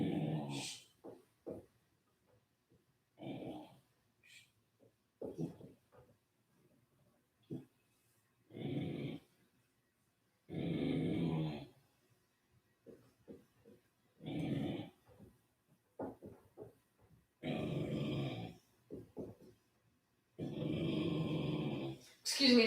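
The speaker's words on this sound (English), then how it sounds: "that's just my dog barking at the mail delivery." Dog barking at a mail delivery indoors, a series of repeated bark bursts at moderate distance, interspersed with a person talking.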